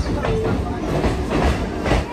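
A local train running from Kolkata to Bolpur Shantiniketan, heard from inside as a loud, continuous rumbling roar with a faint rhythmic clatter of the wheels on the rails.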